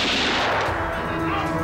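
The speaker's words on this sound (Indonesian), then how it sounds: "Tembakan dilepaskan." Gunfire during a nighttime raid by armed troops on a general's house in 1965 Jakarta, a loud, dense burst of blasts packed into under two seconds, with a steady low rumble beneath and no voices.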